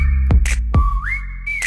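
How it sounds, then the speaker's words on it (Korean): Whistling from a girl group pop song excerpt, with a clear sustained whistled melody that rises in pitch, interrupted by sharp percussive beats. "휘파람."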